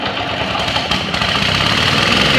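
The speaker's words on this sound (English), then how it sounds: "It's got an 8 horsepower Honda engine with a 29-inch wheel with the 8 carbide teeth." A Little Beaver KT2400B earth saw with an 8 hp Honda engine and a 29-inch carbide-toothed wheel runs steadily, loud and close, with an even mechanical chug throughout and no voices.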